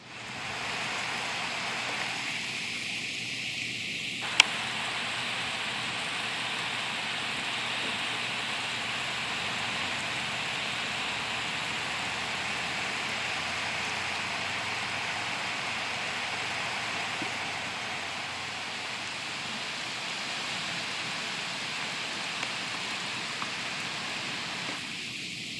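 Steady rain falling on a garden, a dense even hiss throughout with a faint tone appearing briefly near the start and end, no talking.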